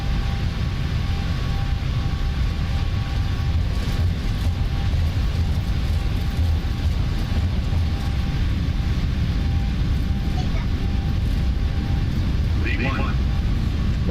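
The engines of a Boeing 747-8 in a flight simulator run at takeoff thrust, a steady low roar lasting throughout with a faint brief tone near the end.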